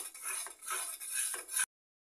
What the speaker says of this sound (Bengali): মিশ্রণটা আমি নেড়ে ছেড়ে গাঢ় করবো, একটা মাওয়া তৈরি করে নিব